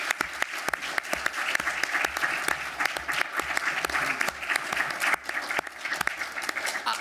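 An audience at a committee meeting in Monaco claps continuously, a full, close room of applause with sharp individual claps standing out and a low hum beneath.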